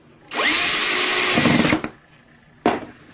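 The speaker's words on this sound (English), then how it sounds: "now we're going to screw that in" Power drill driving a screw into a wooden drum kick pedal being built, one loud steady whir of about a second and a half that winds down, then a short second burst after a pause.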